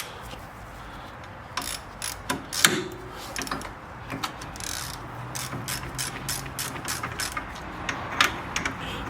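Ratchet wrench clicking as it loosens a brake bolt on a 2008 Lexus IS250, heard as quick bursts of close, crisp pawl clicks with short pauses and light metallic clinks between strokes.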